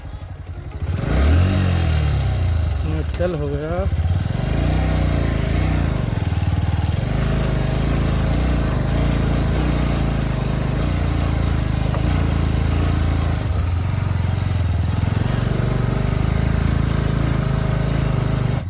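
A motorcycle engine labors and revs continuously while climbing a rocky hill road, with rattling and clatter from the rough surface; a brief spoken remark near the start.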